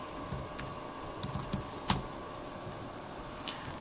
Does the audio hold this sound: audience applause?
no